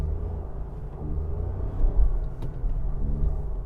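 A Toyota Yaris Cross Hybrid drones with a steady, loud low engine roar while driving, holding a strained rumble throughout with slight swells and no talk over it.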